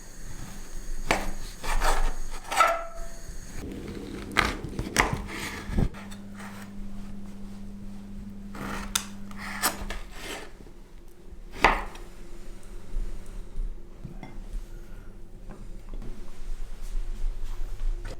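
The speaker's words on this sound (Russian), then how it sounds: "начинаем нарезать курдючное сало кубиками" A knife cuts sheep tail fat into cubes on a board beside a heating cauldron, giving irregular close taps and chops with soft scraping and a low steady hum underneath.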